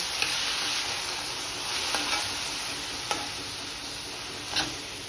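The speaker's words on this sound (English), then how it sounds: "I'm going to add the tomatoes to it. And let it cook on a little bit low flame" Onions and tomatoes cook over a low flame in a pan, giving a soft steady sizzle with occasional light spatula taps and scrapes, close by and without voices.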